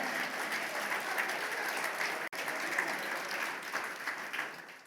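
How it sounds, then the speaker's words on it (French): A church congregation applauds during a sermon: steady, fairly close group clapping with one brief break in the middle, then it continues evenly. "Applaudissez le Seigneur Jésus."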